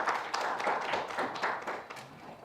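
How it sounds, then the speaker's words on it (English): An audience at an inauguration ceremony for a campus student representative council claps in a brief, moderately loud burst that thins out toward the end. "Can you give the campus principal, Dr. Major, a round of applause again?"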